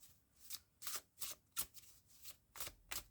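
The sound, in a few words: shuffling astrology cards for a reading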